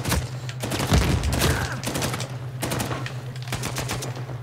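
Rapid gunfire bursts from an online Team Deathmatch match of Uncharted 4, set in a village map, crackling in repeated volleys over a steady low game hum.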